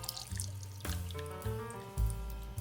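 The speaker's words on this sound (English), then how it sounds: "now we're going to take our lemon mixture and we're going to put it through a strainer over a bowl" A lemon posset mixture is poured through a strainer into a bowl, heard as close, liquid trickles and drips with a few small clinks and sloshes.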